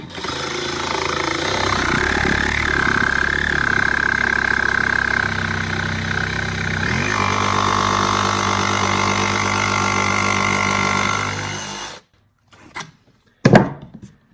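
A heavy-duty cordless saw cuts through 2-inch cherry wood with a loud, steady motor whine that shifts pitch under load for about twelve seconds, then stops abruptly, leaving a few brief clunks.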